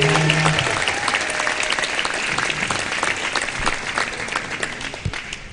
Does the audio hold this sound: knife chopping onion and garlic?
no